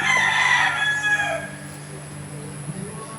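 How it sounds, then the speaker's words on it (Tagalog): A backyard rooster crows loudly and close, one long strained call fading out, followed by a quieter stretch with faint background hum. "nakakarinig kasi siya ng tilaok sa kapitbahay, kaya tumitilaok din siya."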